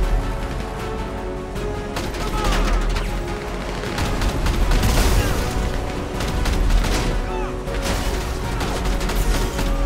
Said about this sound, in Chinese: 直接用这个 APC 来打就好了